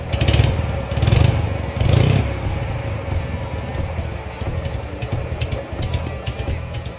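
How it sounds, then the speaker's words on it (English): A 1962 BMW R50 motorcycle with a two-cylinder four-stroke boxer engine, running nearby; three strong revs in the first seconds, then a steady, slightly uneven idle. "Introducing Restis BMW R50 1962."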